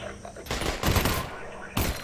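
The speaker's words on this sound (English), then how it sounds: "Look, he just spams bullets." Rapid bursts of gunfire sprayed by a player in a video game about being hunted by the Combine, two dense volleys close and loud, the second starting after a brief gap, with faint talk beneath.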